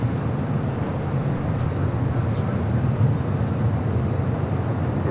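El Al Boeing 787 Dreamliner taxiing on a taxiway at LAX, a steady low engine rumble and broadband roar heard from a distance, continuous with little change and no talk over it.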